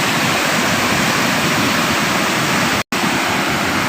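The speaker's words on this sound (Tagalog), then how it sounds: "Lakas ng agos ng tubig" Water rushes hard through Rizal dam in Nueva Ecija, a loud, constant broadband roar of torrential flow filling the air, with one brief cut near the end.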